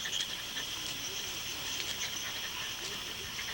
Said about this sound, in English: It's attracted to the pools by the mating calls of the frogs.